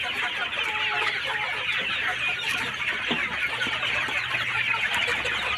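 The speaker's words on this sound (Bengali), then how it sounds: "এই যে দেখেন একবারে পিওর দেশি মুরগি" Desi chickens and roosters on a poultry farm cluck and chatter continuously up close, a busy flock with overlapping calls and no talk.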